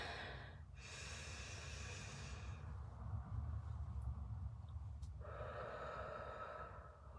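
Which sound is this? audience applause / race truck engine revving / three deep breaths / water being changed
three deep breaths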